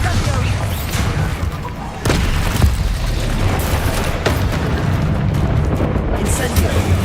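Bombarda blasting spell in Hogwarts Legacy, heavy booms and crashing bursts with a sharp impact near the start, followed by lingering rumbling debris and scattered smaller hits, loud and close.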